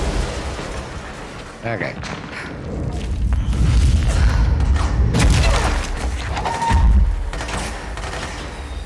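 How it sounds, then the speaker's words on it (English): Grenade blasts in the video game Control crowd a dense, loud battle mix of booms and rattling gunfire, with heavy low thuds peaking near the middle and end while someone talks briefly over the chaos. "there's a lot of grenades coming in this way"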